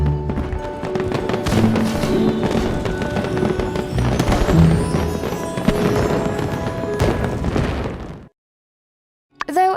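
Fireworks go off in the video game My Time at Sandrock: a dense, continuous run of booming bursts and crackles, loud and steady, then a sudden drop to silence before another burst at the very end.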